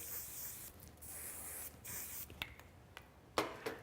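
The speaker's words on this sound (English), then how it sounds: "Going in with just a little bit of hairspray." Hairspray misted onto a section of hair during curling, heard as several short, soft hissing bursts of aerosol spray, faint and close, with light handling noises between them.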